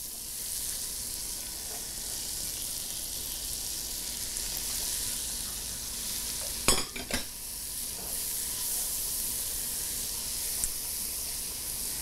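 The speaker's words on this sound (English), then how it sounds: "Now what we want is just the onions to cook about 5 or 7 minutes until they're translucent." Diced Vidalia onion cooking in a hot pan, a steady close sizzle and hiss throughout with a brief burst of stirring scrapes near the middle.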